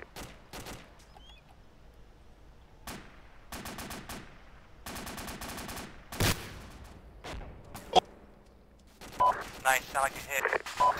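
Gunfire in the military shooter game Arma 2: several sharp shots and short bursts spread across the clip, some distant and some closer and louder, with a few people talking in between.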